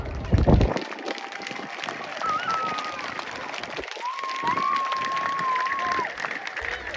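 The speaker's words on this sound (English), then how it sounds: "Teesside, give a massive round of applause to Synchro." Crowd at the Teesside air show applauding, a faint scattered clapping under ambient outdoor noise, with a thin whistling tone drifting through.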